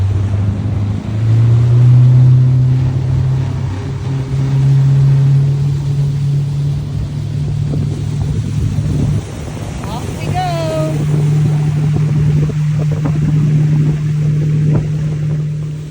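A boat engine runs at speed, heard as a loud, steady low drone under heavy wind buffeting, with a person talking over it partway through.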